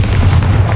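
A Confringo blasting spell detonates in Hogwarts Legacy, a loud, deep, rumbling boom that fills the short moment with heavy low-end force.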